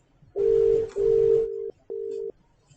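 A 3CX softphone places an outgoing call: a burst of dialing tones, then two clean ringback tones with a short gap between them, clear and close with no talking.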